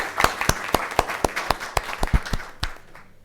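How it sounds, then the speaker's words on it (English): A small audience at a city council meeting claps in a sparse, evenly spaced rhythm of distinct hand claps, a few people only, fading out after under three seconds with no talk over it. "let's give them a round of applause"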